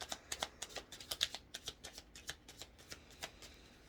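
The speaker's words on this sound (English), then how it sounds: "Final shuffle." Rapid riffling of tarot cards being shuffled, a steady run of crisp flicks and snaps close by, with no talking.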